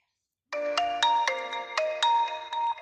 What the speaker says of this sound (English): Let's start with the techno called Crystal Clear.